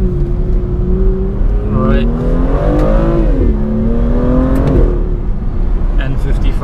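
An M55 car engine revving, its pitch climbing and falling in smooth sweeps as the throttle is blipped, heard close and loud with someone talking over it.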